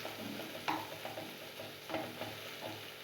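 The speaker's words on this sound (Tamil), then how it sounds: "தக்காளி நல்ல மையம் வதங்கிடணும்." Tomatoes sauté in a pan for rasam, a soft steady sizzle broken by a few louder stirring scrapes, faint and close, with no talking.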